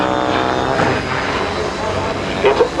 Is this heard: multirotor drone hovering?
yes